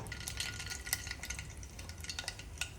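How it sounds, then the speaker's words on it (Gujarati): Mustard seeds crackle in hot oil during a tempering for a dhaba-style potato curry, giving a steady fizzing sizzle with small pops and scattered bright clicks of a spoon or pan, moderately loud with no talking. "હવે પહેલાં રાઈ નાખી દઈશું"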